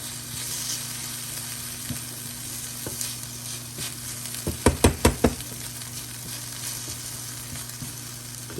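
Spices of salt, cumin and paprika stirred into chorizo frying in a pan, a steady sizzle throughout with a quick run of sharp spoon knocks and scrapes against the pan in the middle.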